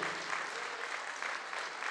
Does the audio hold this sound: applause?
yes